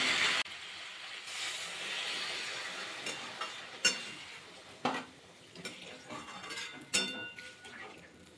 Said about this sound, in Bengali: এবার জল অ্যাড করে দেবো।